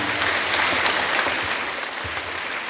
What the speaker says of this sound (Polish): Największe brawa, bardzo prosimy.